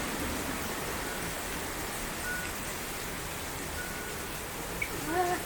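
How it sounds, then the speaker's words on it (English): Heavy wind-driven rain lashes down sideways during a storm in Wakayama, a steady, loud hiss of noise with no break, with a faint voice in the background. "It's raining sideways."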